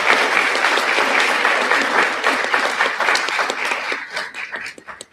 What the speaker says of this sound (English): give one more big round of applause for Miss Benedetto